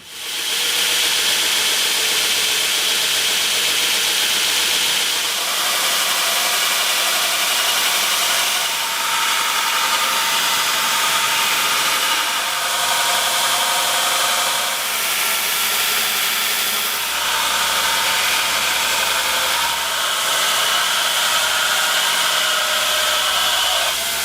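A homemade 2x72 belt grinder runs continuously with a loud, broad hissing roar, the grinding intensity swelling and easing in several passes over the whole stretch, with no talking.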